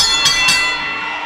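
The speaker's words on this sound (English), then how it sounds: "I'm not sure why the referee called for the bell" A ring bell at an intergender wrestling event is struck twice in quick succession, loud and close, its bright metallic tone ringing on and slowly decaying.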